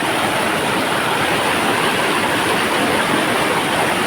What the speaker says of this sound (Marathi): पाणी बघू शकते बघा, एवढं पाणी आहे आणि कंटिन्यू पाऊस पडतोय